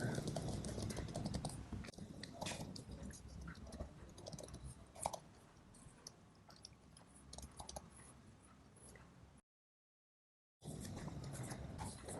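Rapid, uneven clicks of a computer keyboard as JavaScript code is typed, close and fairly quiet, with bursts of keystrokes, a louder tap partway through and a brief full silence near the end.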